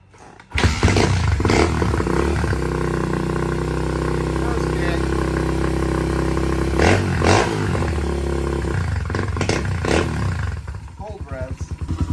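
A Honda XR100 pit bike fires up and settles into a loud, steady single-cylinder idle close by, with a brief blip of revs near the end.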